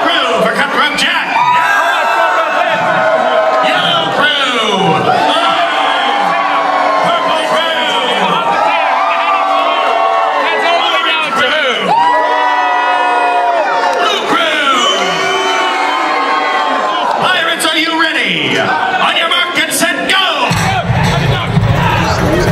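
Pirate dinner show audience in Buena Park cheering loudly for its pirates, with waves of whoops, yells and children shouting that rise and fall over about twenty seconds, interspersed with an announcer's voice calling to the crowd.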